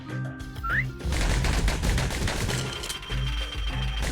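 Bursts of gunfire from the guns in Bastion, a dense run of rapid cracking shots over a low rumble, loud and steady for a few seconds after a brief tonal chirp, no talking.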